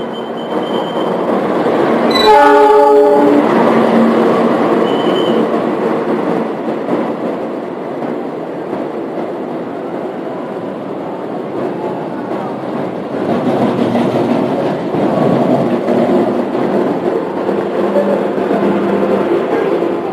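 Train passing through Jatinegara railway station, opening with a short blaring horn blast, then a long loud rumble of rolling cars and wheels that dips slightly and swells again.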